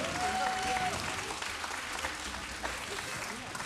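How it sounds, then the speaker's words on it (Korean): A church congregation at a Friday prayer meeting claps together in a dense, steady wash of applause, moderately distant, with a voice speaking over it. "다시 한번 하나님께 영광의 박수를 크게 돌리겠습니다."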